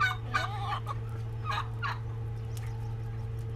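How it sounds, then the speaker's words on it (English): Turkey gobbling at a morning feeding in a farmyard, a few bursts of rippling gobbles over a steady low mechanical hum, with other fowl faintly around. "One of our turkeys there"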